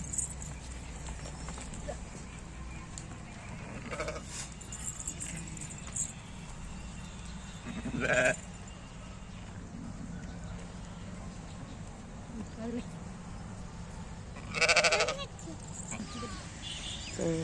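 Lambs bleat now and then, a few separate calls spaced several seconds apart, over steady outdoor background noise.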